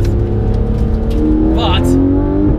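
A Porsche 991 GT3 RS engine hums and revs under steady road noise, with a brief high squeal in the middle.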